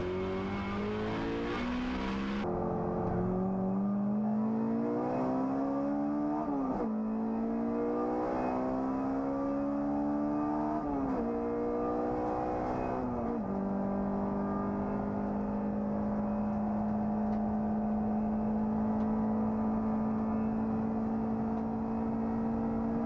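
Race cars, including a Seat and a Mini, howl around the Rockingham circuit, with one loud engine note climbing through the revs, dropping at several gear changes, then holding a steady high drone.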